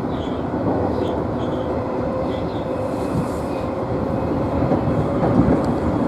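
A JR West Osaka Higashi Line electric train bound for Shin-Osaka runs along the track with a steady, continuous rumble and faint wheel clicks, growing slightly louder toward the end, with no talk over it.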